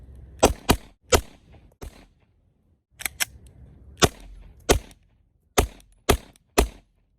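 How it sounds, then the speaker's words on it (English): A custom-painted Glock 17 pistol firing about a dozen sharp, loud shots in uneven groups, some quick doubles and some spaced pauses, with a short gap partway through. "I said I wasn't gonna shoot all my rounds, but I guess I'm gonna go ahead and do it for y'all"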